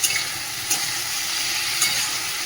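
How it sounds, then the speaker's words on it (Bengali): Potatoes and vegetable stalks frying in a pan with poppy seed, green chili, salt and turmeric, a steady close sizzle broken by a few soft stirring scrapes, no voices. "ডাঁটা আলু ভালো করে একটুখানি নাড়িয়ে নিলাম"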